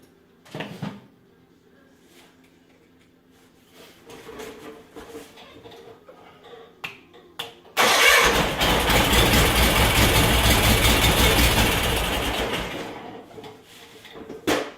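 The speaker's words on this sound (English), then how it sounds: "The engine is gonna run, or should run." A tractor engine with a PTO under repair sits quiet through a few clunks and knocks, then fires up and runs steadily and loudly for several seconds before easing slightly toward the end.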